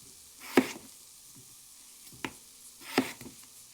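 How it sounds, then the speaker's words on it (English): Onions sweating in a pan, a soft steady sizzle broken by three brief louder scraping stirs spaced over a few seconds, quiet and close with no voices. "Stir the onions occasionally and let cook until translucent."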